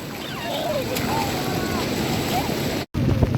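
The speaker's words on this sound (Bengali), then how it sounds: "প্রচুর বাতাস এবং ঢেউ" Strong wind rushes over the microphone with the steady wash of sea waves behind it, broken briefly by a moment of silence near the end, on Cox's Bazar beach during a storm.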